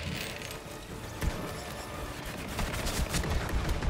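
Rapid gunfire from the Maggie pistol in the video game Borderlands 3, a Jakobs weapon: a dense, steady stream of shots and impacts over busy game combat noise, with no talk.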